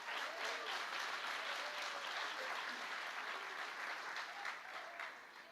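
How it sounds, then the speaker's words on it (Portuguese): A church congregation applauds in a dense, even wash of clapping from many hands. The sound is faint and distant and fades slightly at the end. "Você pode aplaudir ao Senhor."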